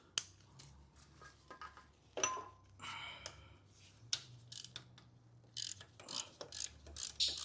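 Ratchet loosening a 13mm bolt on the engine of a 2010 Mini Cooper S, heard as rapid clicking pawl bursts at close range, with a low steady hum beneath and brief metallic clatter between pulls.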